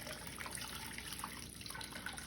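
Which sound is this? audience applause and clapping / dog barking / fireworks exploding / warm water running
warm water running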